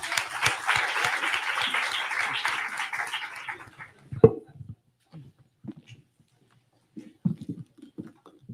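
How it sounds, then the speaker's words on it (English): An auditorium audience at a conference for a high-level report launch applauds steadily for a few seconds, then the clapping dies out, followed by a thump and scattered footsteps and small shuffling noises in the hall. "Another round of applause for all of our high-level speakers."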